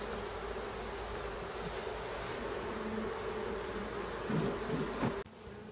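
Honey bees swarm and buzz around an open, defensive hive during an inspection on a hot day, a dense steady drone filling the air close by, with a brief louder burst near the end.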